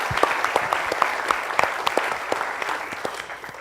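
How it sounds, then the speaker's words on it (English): Applause for a speaker at a business pitch event, dense clapping from an audience with a few sharper individual claps standing out, tapering slightly toward the end. "So please give a round of applause to Peter Jansen."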